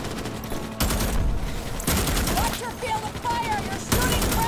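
Rapid automatic gunfire in the sci-fi shooter Starship Troopers Extermination, loud sustained bursts separated by short pauses, with game sound effects and faint voices underneath.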